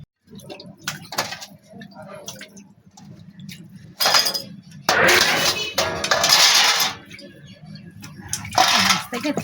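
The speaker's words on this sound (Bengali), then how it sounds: "মাছগুলো এবার ধুয়ে নিই পরিষ্কার করে নিই জায়গাটা" Fish being rinsed under water in a home kitchen, with splashing and clinks of a pot or bowl that come in bursts and grow louder toward the middle, while a person talks through it.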